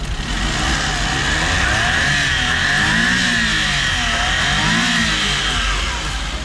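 A small turbocharged Suzuki P6A van engine revs up and down repeatedly, rising and falling in pitch with a steady whine, loud and close, no voices.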